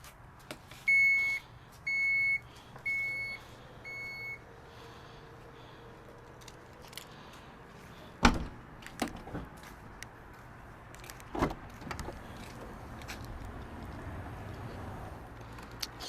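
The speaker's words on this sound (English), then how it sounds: "Now I'm going to close the boot by the button" Four short electronic beeps from a 2022 Chrysler Pacifica minivan as its power boot closes by button, followed by faint mechanical movement and a couple of soft thuds, quiet and close.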